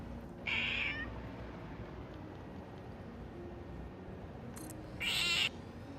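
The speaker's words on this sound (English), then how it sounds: "She sits at the door and it sounds like I'm torturing my cat." A pet cat gives two drawn-out, whiny meows about four seconds apart, close and clear over a quiet background hum.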